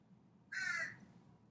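A crow gives one short, clear caw at close range, loud against an otherwise quiet indoor background.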